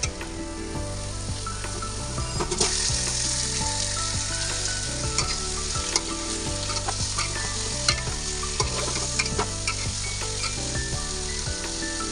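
Chicken curry cooks in a pan with a continuous close sizzle, punctuated by frequent scraping and clinking strokes of a spatula stirring throughout.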